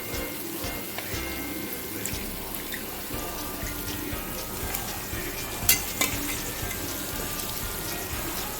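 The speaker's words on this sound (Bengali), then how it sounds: "এরপর আমরা এই ভেজে তুলে রাখা পনিরগুলো অ্যাড করব।" Fried paneer goes into a pan of sizzling yogurt gravy, giving a steady close frying hiss with stirring scrapes and a couple of sharper clinks near the end, no voices.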